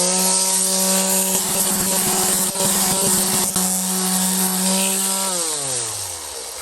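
Polyurethane finish is stripped from an Epiphone guitar body with a loud, steady whining power tool and gritty rubbing against the wood, the motor winding down near the end.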